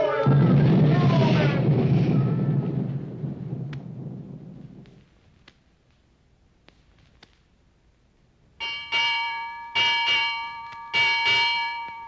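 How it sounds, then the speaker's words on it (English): After a rumbling roar fades to near silence, a ship's bell rings out in three pairs of clear, ringing strikes, six in all. "6 bells and all's well"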